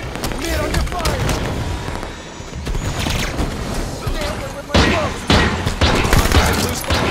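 Rapid gunfire and booming explosions from a Halo 5 multiplayer Super Fiesta match keep up a loud, dense barrage throughout, with players' voices talking over the action.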